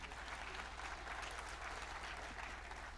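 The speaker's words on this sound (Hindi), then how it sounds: "तो बजाओ ये ताली।" An audience applauds steadily at a live stage event with Bundeli performers and a Panchayat web-series actress, a dense, even clapping that holds at the same level throughout without pause.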